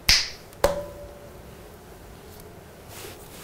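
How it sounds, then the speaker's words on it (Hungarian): A single crisp finger snap up close, followed by a brief sharp click, then quiet room tone. "egy csettintés."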